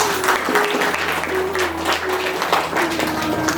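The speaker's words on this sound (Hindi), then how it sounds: "ताली से इनका स्वागत है।" Audience at a relief-work closing ceremony applauding to welcome a guest, steady broadband clapping filling the whole stretch, with a faint sustained tone running underneath.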